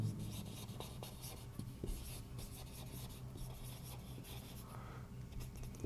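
Pen writing by hand on paper during a maths lesson on prime factors, a soft scratchy stream of short strokes and taps, close and quiet with no talk.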